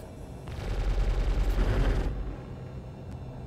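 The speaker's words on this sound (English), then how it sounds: "They're shooting at us." Rapid, loud bursts of ship gunfire in the space game Star Citizen, a pulsing volley lasting about a second and a half before cutting off, with no talk over it.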